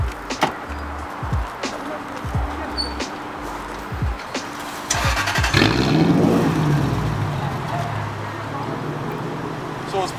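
A 1999 Lexus LS400 with a straight pipe exhaust idles with a low rumble, then revs up loudly, the throaty exhaust growing harsher before settling, with faint clicks and handling noises earlier.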